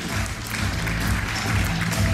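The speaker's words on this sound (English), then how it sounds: "A round of applause for her, ladies and gentlemen." An audience at a stage launch event for a hair care range applauds, a dense continuous clatter of clapping hands filling the room at steady, fairly loud level.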